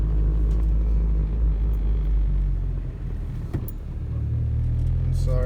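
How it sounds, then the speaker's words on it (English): Car engine with a manual transmission, heard from inside while driving: a steady, loud low rumble that dips briefly mid-way and swells again, with a faint voice over it. "you hear the motor, like the motor will tell you when you need to"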